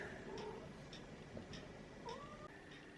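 A cat gives a few faint, short meows in a quiet indoor room at night, with one rising call standing out near the end.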